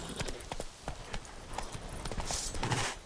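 Rhythmic clip-clop of a heavy horse's hooves walking at a steady pace in The Witcher 3: Wild Hunt video game, crisp and close, with no voices.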